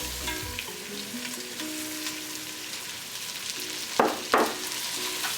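Two onions sizzle and fry steadily in a pan, with a couple of louder scraping or stirring bursts near the end.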